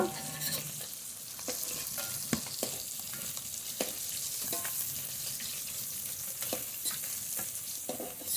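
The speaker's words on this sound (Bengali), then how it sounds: "বাকি মাছগুলো ভেজে নেব" Small hilsa fish fry in hot oil with a steady, close sizzle, broken by light clicks and scrapes of stirring.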